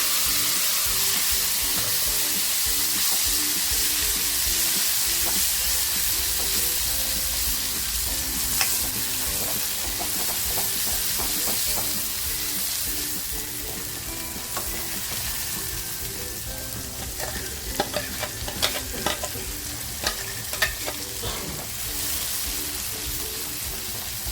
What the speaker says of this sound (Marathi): जो मसाला करून घेतला आहे ना अद्रक लसूण कोथंबीर मिरची हा मसाला ह्या तेलामध्ये टाकते आहे